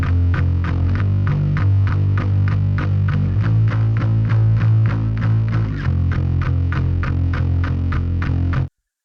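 Rendered rock mix with fat bass and heavily distorted electric guitars, a dense, loud wall of sound driven by steady punchy drum hits and shifting low chords, playing continuously for about nine seconds before stopping abruptly.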